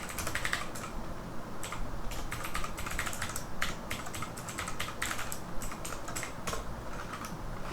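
Fast, continuous typing on a computer keyboard to spawn a tty shell, a dense patter of close key clicks with brief pauses and no talking.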